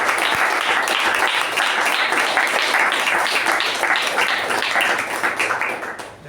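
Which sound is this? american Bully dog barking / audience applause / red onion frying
audience applause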